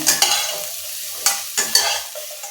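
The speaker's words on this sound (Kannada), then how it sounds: "ಇದನ್ನು ಸ್ವಲ್ಪ ಫ್ರೈ ಮಾಡ್ಕೋಬೇಕು ಚೆನ್ನಾಗಿ, ಬೆಂಡೆಕಾಯಿ ಉರಿತೀವಲ್ಲ ಆ ರೀತಿ ಫ್ರೈ ಮಾಡ್ಕೋಬೇಕು ಇದನ್ನು" Sliced bitter gourd frying in oil in a pan for a Karnataka-style palya, stirred with a spatula that scrapes the pan in several distinct strokes over a steady close sizzle.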